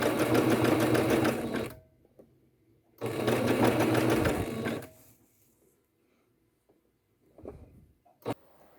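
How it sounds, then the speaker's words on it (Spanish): A sewing machine stitches fold-over elastic onto lingerie fabric, running in two steady bursts of rapid whirring with a pause between them and a few faint handling clicks after. No talking. "Cose tan lento como necesites para que todas las capas queden súper bien cosidas"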